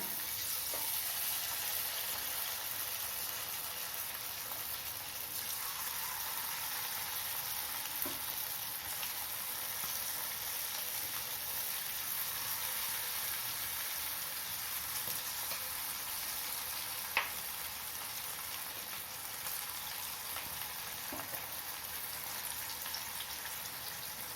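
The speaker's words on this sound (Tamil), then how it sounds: "இப்போ எண்ணெயில் பொரித்து எடுத்துக்கலாம் எண்ணெய் காஞ்சிடுது மீடியம் ஃப்ளேம்லேயே வச்சு நிதானமாக வறுக்கணும்" Chicken 65 pieces deep-frying in hot oil over a medium flame, a steady, dense crackling sizzle running throughout with a few sharper pops standing out, close and even in level.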